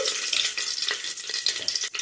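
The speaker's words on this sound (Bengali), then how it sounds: "হাঁড়ির মধ্যে একটু ঘি দিয়েছি দুটো তেজপাতা দিয়েছি গোটা গরম মশলা দিচ্ছি" Bay leaves and whole garam masala spices fry in ghee in a cooking pot, giving a close, crackling sizzle with fitful pops over a couple of seconds.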